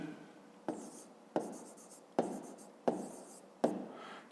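Pen strokes write numbers by hand on paper during a fifth-grade maths exercise, six short scratchy bursts evenly spaced about a second apart, close and fairly quiet.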